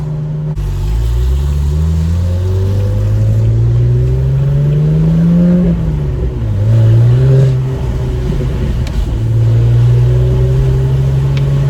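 BMW 135i with the N54 engine, boost solenoids freshly installed and a fault near 3,000 rpm, revving loudly close by, pitch rising and falling across several blips over a steady idle drone.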